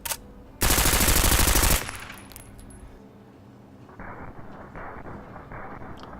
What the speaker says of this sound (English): what we are using is an MP5 with a suppressor, firing subsonics